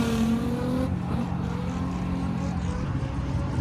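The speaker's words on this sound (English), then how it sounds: "This thing is absolutely mental. Crazy sounding car. This thing is a beast. Big old turbo." Turbocharged drift car at a track, its engine roaring and revving loud and steady throughout, with a high whine that drops away early on.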